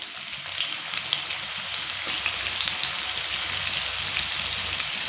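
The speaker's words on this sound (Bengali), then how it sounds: "এই তেলের মধ্যে আমি পেঁয়াজের বেরেস্তা করে নেব" Sliced onions fry in oil left over from frying chicken, browning into crisp birista for a one-pot biryani. A dense, even crackle of sizzling oil runs close and unbroken throughout.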